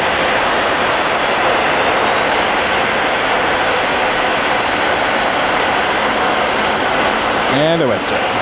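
A WestJet jet airliner roars steadily and loudly with broadband engine noise at Toronto Pearson Airport, holding for several seconds before a short burst of voice near the end.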